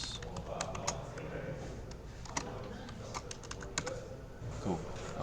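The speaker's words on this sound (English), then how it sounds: "I'm just typing it." Rapid, irregular clicking of keys on a computer keyboard during a game-development livestream, fairly quiet and close, with faint background talk.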